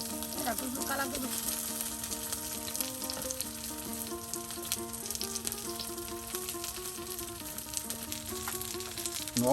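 Stuffed taro pieces deep-fry until crispy in hot oil, giving a dense, steady sizzle and crackle that continues throughout, with faint background tones underneath.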